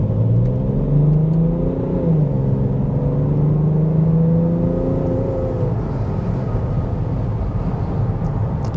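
A BMW X5 xDrive 35d diesel SUV accelerates hard, its engine climbing through rising pitch sweeps and shifting, then settling into a steady rumbling drone, loud and close with no talk.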